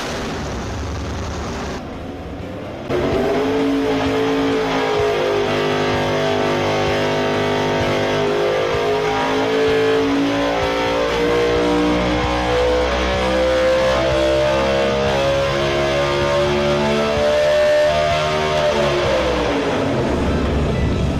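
A Dodge R5 P7 NASCAR race engine, rated about 800 horsepower at 9000 rpm, roars loudly and steadily, climbing and holding high revs for about twenty seconds after a brief lower idle at the start.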